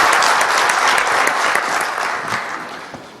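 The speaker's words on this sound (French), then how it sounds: "S'il vous plaît, applaudissez très fort toute l'équipe de l'audiovisuel." The audience at a conference debate breaks into a loud, dense round of clapping that holds for a few seconds and then tapers off.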